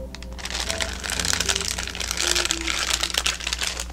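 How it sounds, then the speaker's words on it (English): Plastic packaging is crinkled and handled up close in a dense, continuous crackle that runs the whole time, with faint music underneath. "Crinkling plastic."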